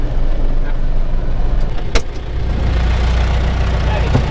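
A tractor with a rotary tiller attached runs along a narrow country road, its engine a steady, loud, close drone with a brief knock partway through.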